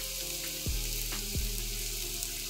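Chopped onion, a garlic clove and a cayenne pepper fry in extra virgin olive oil in a pan, a steady close sizzle broken by a few sharp low thumps.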